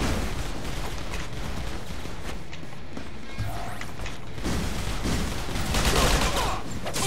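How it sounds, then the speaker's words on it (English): Gunfire in the online shooter GunZ 2, a dense, loud fusillade of rapid shots crackling continuously with mechanical clatter, swelling louder toward the end. "Shooting the wrong guy."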